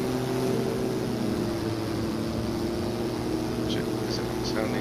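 WWI biplane engine droning in the flight simulator game Wings Over Flanders Fields, a steady close rumbling drone holding constant throughout with a few faint higher blips near the end.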